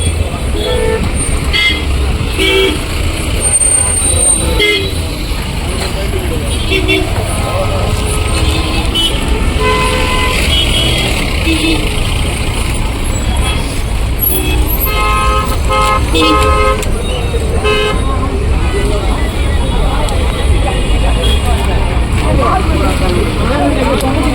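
Heavy night road traffic near a crowded political rally ground with buses and vans queued, constant engine rumble with repeated car and bus horn toots, voices talking loudly over it throughout.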